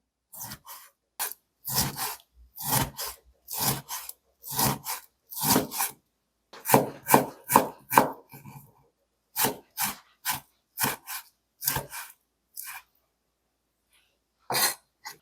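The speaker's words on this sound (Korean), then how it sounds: "자, 고기 채 한번 썰어 볼게요." A knife slices meat into thin strips on a cutting board for a fish cake hotpot, in a long run of close, crisp rhythmic chops with short pauses, no talk.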